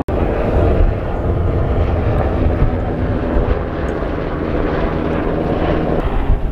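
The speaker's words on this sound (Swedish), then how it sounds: "Helikopter." Helicopter passing overhead near an anchored sailboat outside a harbour in the English Channel, a loud continuous rotor and engine roar with wind buffeting that holds steady throughout.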